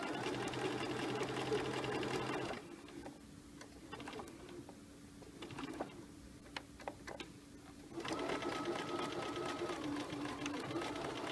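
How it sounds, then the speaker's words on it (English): A sewing machine stitches fabric slowly around a curve, a steady mechanical whir that stops for several seconds of small clicks and handling, then resumes and runs to the end. "Okay, the sewing portion is finished, but we're not finished with the technique."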